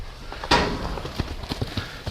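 Hooves clip-clop close by as a horse is worked on the ground during trailer-loading prep, a sharp knock followed by a string of uneven, fairly loud hoofbeats.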